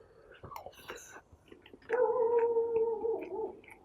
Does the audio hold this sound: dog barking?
yes